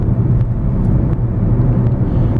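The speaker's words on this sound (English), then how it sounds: "the smaller the engine is, the more whiny and louder that it'll sound. And that is the case here" A 2008 Honda Civic Hybrid with a 1.3-liter four-cylinder engine accelerating, heard from inside as a steady low droning rumble with road noise, fairly loud and continuous.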